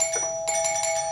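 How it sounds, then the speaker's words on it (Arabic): Doorbell ringing indoors, a short electronic chime of two bright tones in quick succession, clear and moderately loud against a quiet room. "عم بندق الجرس"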